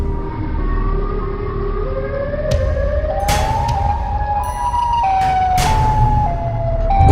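A Siren Head creature's siren wails continuously in a Hindi-dubbed cartoon, its pitch sliding up and down in long sweeps, loud and steady throughout with some sharp clanks and rumble underneath.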